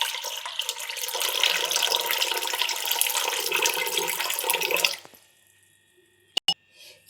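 Cold water pours steadily into a bowl of mango frooti mix with ice cubes, a loud continuous splashing stream that lasts about five seconds, then stops, followed by near silence and a couple of small clinks.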